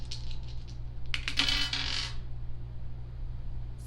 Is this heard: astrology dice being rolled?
yes